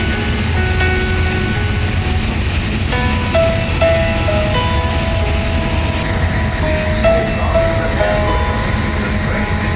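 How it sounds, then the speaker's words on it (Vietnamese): A train ride with a steady, loud rumble of a moving railcar throughout, light rhythmic clatter and occasional tonal squeals or hums rising above the continuous noise, and no talking. "Đang đi xe lửa."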